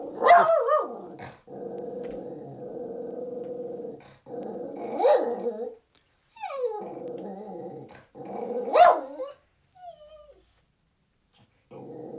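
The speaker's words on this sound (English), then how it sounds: "No growling, no barking, no carrying on, okay? Be a good dog for once in your little life." A small dog barks and growls close by in repeated bursts, sharp yelps breaking out of stretches of low rumbling growl, with a few brief pauses and no speech over it.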